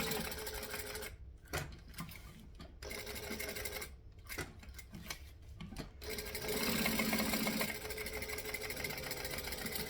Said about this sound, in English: And then I'm going to continue stitching all the way around.